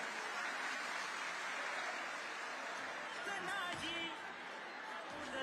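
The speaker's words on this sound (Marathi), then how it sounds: "मी माझ्या माय भगिनींना दादांचं टाळ्या वाजून अभिनंदन करावं" An audience at a political rally applauds to congratulate Dada, a sustained wash of crowd clapping heard from a distance with a few scattered voices mixed in.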